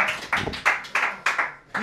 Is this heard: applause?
yes